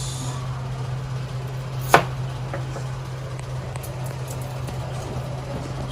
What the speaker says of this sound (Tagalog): So unahin natin hiwain yung shallots.